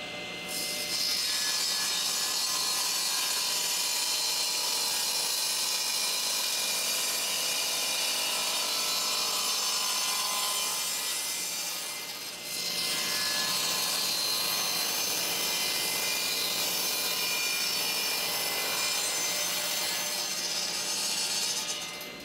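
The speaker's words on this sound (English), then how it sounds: "I'll set up our next piece here in the saw and cut off these ends." A power saw cuts steadily through wood for about twelve seconds, pauses briefly, then cuts again; loud, close and continuous with a high whine.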